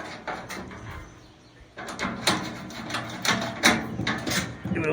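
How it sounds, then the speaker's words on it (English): A shoulder bolt is tightened by hand during assembly of a Royal Gourmet grill, giving close, irregular metallic clicks and ratcheting taps that grow busier toward the end, with no talking. "Give it a little tighten down."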